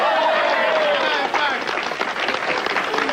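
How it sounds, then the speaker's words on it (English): Audience applause after a mock auction sale, a full burst of clapping close by with crowd voices and a higher voice mixed through it. "Round of applause."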